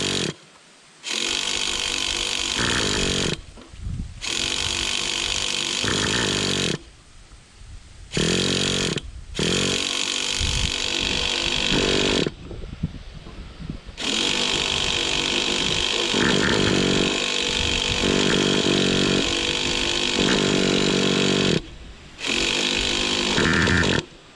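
A Traxxas Revo 3.3 nitro RC engine runs loud and close, buzzing in long revving bursts broken by brief cutouts and restarts.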